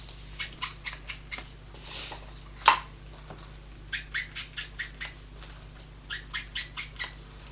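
Glossy-finish photo paper is handled and cut, giving a string of short crisp snips and crinkles in an uneven rhythm with one louder squeaky rub, close and fairly quiet, with no talk.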